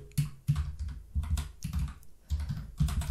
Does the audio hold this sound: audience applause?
no